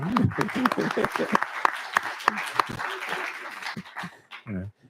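A crowd in a legislative committee hearing room claps in steady applause with some cheering over it, the clapping fading out toward the end.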